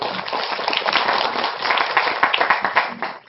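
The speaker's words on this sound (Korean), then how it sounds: "박수를 맞아주시죠" An audience applauds to welcome a speaker onto a stage at a Korean ODA talk event, a steady burst of clapping that swells and then fades out near the end.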